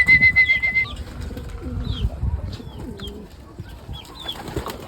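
Low, soft cooing of pigeons repeats throughout, mixed with faint chirps and a brief flutter of wings, close by in a noisy setting.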